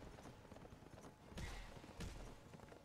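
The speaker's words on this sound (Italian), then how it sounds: "Vediamo se posso usare il cavallo." Horse hooves clop in the video game Berserk Musou, a soft, muffled run of hoofbeats with two heavier thuds, faint under quiet game background sound.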